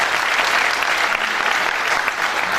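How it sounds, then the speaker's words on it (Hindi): An audience at a comedy performance claps loudly and steadily, a thick, even roar of many hands that holds at the same level throughout without speech over it. "बिल्कुल एक बार इसके लिए ताली बजनी चाहिए"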